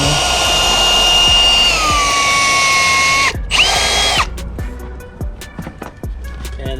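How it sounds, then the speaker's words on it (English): A power drill bores into a wooden trailer bunk with a loud close whine that slows in pitch, stops, whirs briefly again, then gives way to scattered clicks and knocks. "I thought about just drilling it in 3/4 the way through the wood to see if that would hold."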